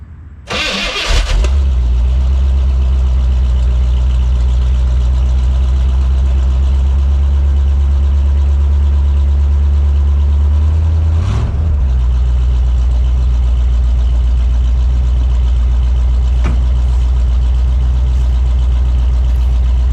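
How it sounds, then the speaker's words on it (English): A 1982 Corvette with a new exhaust and mufflers cranks and fires on a cool 45–50 degree day in Pennsylvania, briefly flaring loud before settling into a steady, deep, rumbling cold idle that continues close and alone. "I'll give you a cold start"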